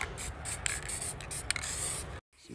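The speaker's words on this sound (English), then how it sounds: "we're gonna make a shine with some white just by spraying the top of the bowl like that" White spray paint hisses from an aerosol can onto a painted bowl shape, a steady close hiss with a few short bursts and pauses, ending in a sudden silence before a faint resumption.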